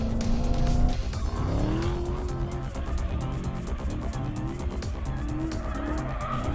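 A Dodge Demon drifting on a track with traction and stability control off, its tires squealing continuously over a loud, steady engine roar that rises and falls in pitch.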